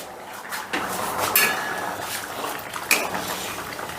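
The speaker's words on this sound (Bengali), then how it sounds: "ছ সাত মিনিট বাদে ঢাকাটা তুলে নিলাম" A lid comes off a pot of red lentil (masoor) dal cooked with fish, giving a few light metallic clinks amid soft bubbling and kitchen noise.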